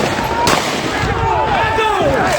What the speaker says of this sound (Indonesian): Aparat kepolisian terpaksa menembakkan gas air mata dan peluru karet untuk membubarkan bentrok antar desa